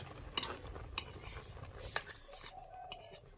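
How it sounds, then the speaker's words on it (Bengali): Vegetarian drumstick curry stirred in a pot, with three or four sharp metal clinks of the spoon against the rim spaced about a second apart over soft background noise, and no voices. "এইরকমভাবে ভালোভাবে নাড়াচাড়া করে নেব"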